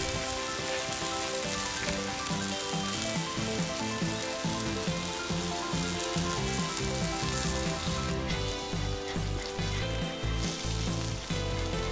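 A burger bun toasts on a hot plate with a steady, dense sizzle and crackle, mixed with a loud layer of background music, no voices.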